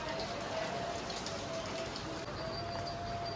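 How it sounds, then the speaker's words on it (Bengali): Light rain falling outside a home, a steady, even hiss of patter that holds at the same level throughout, with no voices. "দেখি বৃষ্টি হচ্ছে।"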